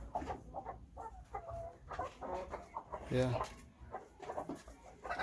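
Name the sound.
chickens clucking on a poultry farm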